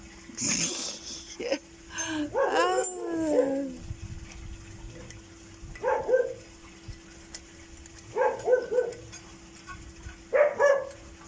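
Close, loud, repeated barking from a dog near a campervan, with short clusters of yelping barks spaced a few seconds apart and a steady background hum.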